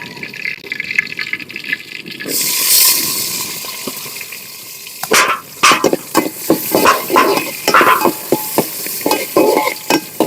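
Goat meat sizzles and fries in a pan outdoors in wind while a utensil scrapes and stirs in repeated strokes, close by, with no talking.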